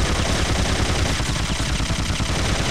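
Continuous rapid automatic gunfire aimed at a Hind helicopter in the video game Syphon Filter, a dense, loud, unbroken stream of shots.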